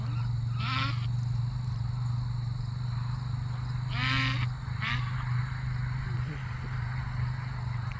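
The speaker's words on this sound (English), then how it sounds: "That's our ducks over here." Outdoor farm ambience with a steady low hum and insect drone, broken by a few short honking calls from ducks nearby.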